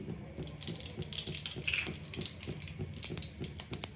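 Cumin and mustard seeds dropped into hot oil for tempering, a steady fizzing sizzle with small popping crackles, close and quiet, no talk.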